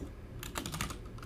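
A few quick keystrokes on a computer keyboard, including tab presses, in a short clustered burst of light clicks over faint room hum, with no voices.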